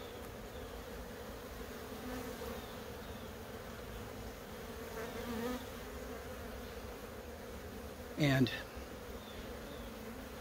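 Honeybees buzz steadily close by, a dense continuous hum that holds through the whole stretch, with one brief louder burst near the end and a single quiet spoken word.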